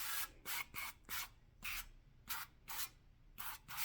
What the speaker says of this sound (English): you want to spray it again with some cooking spray or olive spray